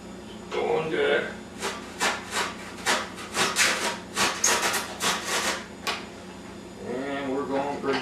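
A taxidermy deer form being cut down with a saw: a run of rhythmic back-and-forth rasping strokes, close and fairly loud, with brief voice sounds at the start and end.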